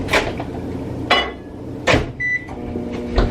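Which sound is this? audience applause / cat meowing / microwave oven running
microwave oven running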